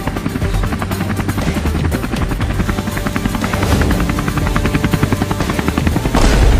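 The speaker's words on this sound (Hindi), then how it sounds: "हम इतने बड़े हेलीकॉप्टर से उड़ रहे हैं" Loud, close helicopter in flight, its rotor chopping in a fast steady pulse over a heavy engine roar and broad rushing noise, sustained throughout and swelling slightly near the end, no voices.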